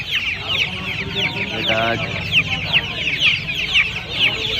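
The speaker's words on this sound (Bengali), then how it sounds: "এই একটা অস্ট্রেলিয়া মুরগির বাচ্চা আছে" A flock of Australian chicken chicks cheeps and clucks continuously close by at a poultry market, high overlapping peeps over a low background murmur.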